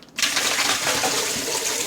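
Water runs steadily from a kitchen tap over blanched green beans in a colander, a continuous splashing rush from start to finish.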